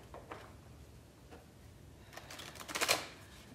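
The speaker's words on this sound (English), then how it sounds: "Taking a couple of breaths here while I shuffle the cards." A deck of cards being shuffled in a quiet room, a few soft flicks early on, then a quick ripple of clustered snaps building to a louder burst near the end, close up and without talking.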